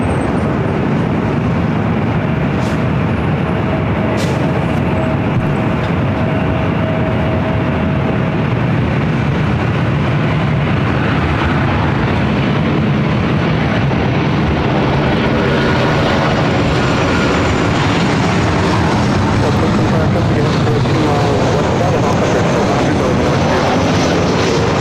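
Delta Boeing 737-900ER arriving at LAX: a continuous, loud jet rumble that stays broad and steady throughout, with a slight rise and shift toward the end and no talk over it.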